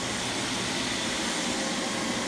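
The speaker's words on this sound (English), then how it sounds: "I'm recovering gas out of this" A refrigerant recovery machine drawing gas out of a Rheem RP1436 outdoor AC unit, a constant loud broadband whooshing drone with no breaks and no voices.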